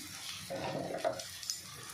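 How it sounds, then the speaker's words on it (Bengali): Scrambled eggs frying in a pan over a high flame: a soft sizzle sits under quiet scraping and clinking as a utensil stirs them, all faint and close. "ডিমগুলো সুন্দরভাবে ভাজা হয় একদম ঝুরঝুরে হয়ে যাবে যেন গায়ে গায়ে লেগে না থাকে এরমভাবে ভাজতে হবে"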